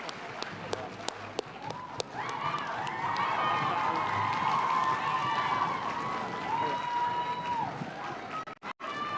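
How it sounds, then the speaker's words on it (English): A large convention crowd at a TwitchCon Dream SMP panel bursts into sustained applause and cheering, with scattered sharp claps at first, then a dense, loud roar of clapping and whoops that holds steady before cutting off. "can we get a big round of applause for Rory"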